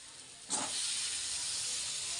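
Brinjal sizzling in hot masala in a village-style kitchen: a sudden loud hiss bursts in as the pieces hit the pan, then settles into a steady, close frying sizzle that continues unbroken to the end.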